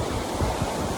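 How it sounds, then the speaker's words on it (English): Small waterfall on a winter hike toward a frozen falls, a steady broadband rush of flowing water that fills the whole second, close and even with no voices. "Little baby waterfall."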